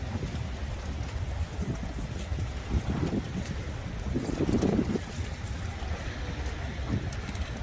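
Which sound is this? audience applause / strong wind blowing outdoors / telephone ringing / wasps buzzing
strong wind blowing outdoors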